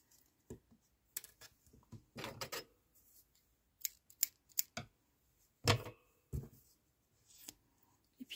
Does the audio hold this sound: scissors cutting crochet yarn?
yes